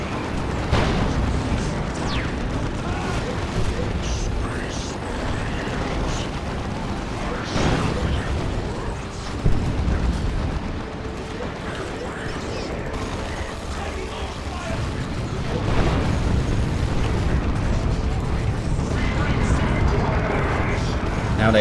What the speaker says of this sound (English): nukes going off all around